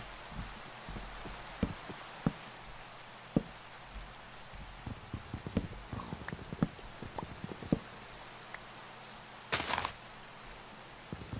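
Rain falls in the Minecraft video game, a steady soft patter with scattered sharper drops across the whole stretch and a brief louder burst near the end.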